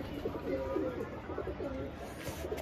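Soft, low cooing from a young, trapped pigeon repeats steadily through a constant rush of outdoor background noise, with a voice murmuring faintly in the mix.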